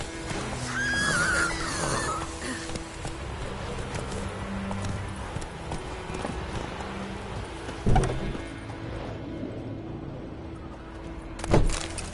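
Roach, a horse in The Witcher 3, gives a loud whinny near the start, followed by hoof clops and thuds over a rainy ambient background.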